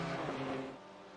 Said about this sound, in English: just going past the Clutch Kicker Racing entry